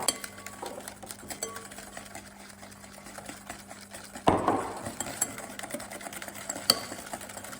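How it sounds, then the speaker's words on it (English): Sugar whisked into egg yolks in a bowl for crème pâtissière, a fast, steady scraping rattle running throughout, with a louder clatter of the whisk against the bowl about halfway through. "And then whisk in your sugar for a few minutes until this is pale and slightly thickened."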